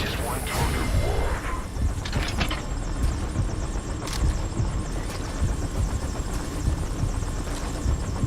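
Helicopter in the video game Metal Gear Solid V whirs with a steady rotor drone, loud and close, broken by a few sharp metallic impacts early on, with a voice speaking over it.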